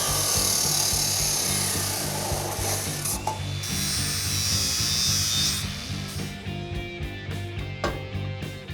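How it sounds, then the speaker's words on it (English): A roll bar main hoop tube on a Mazdarati project car is cut at an angle with a power tool, giving a continuous, close, grinding mechanical buzz that shifts and gives way to clattering handling sounds after six seconds. "We're just cutting an angle on the bottom of it to match the angle of our frame."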